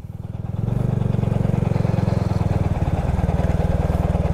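A motorcycle engine runs close by on a sandy, lahar-covered route, settling into a loud, steady, rapid throb after a brief quieter start.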